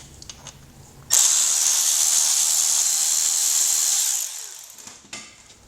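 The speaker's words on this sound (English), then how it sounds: "So what we're going to be doing is taking off this T25 Torx." A power driver spins out a T25 Torx bolt from the range sensor of a Chrysler/Volkswagen 62TE transmission, giving a close, high whirring burst of about three seconds between quieter handling sounds.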